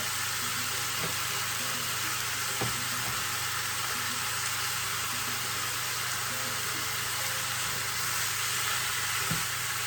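Chicken with celery, carrot and red pepper sizzles steadily in a hot pan during stir-frying, a constant broadband hiss with a few faint clinks of stirring and a low background hum, no talking.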